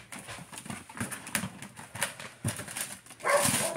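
Several short dog barks from household dogs in the background of a kitchen, scattered and fairly faint amid clatter and handling noises.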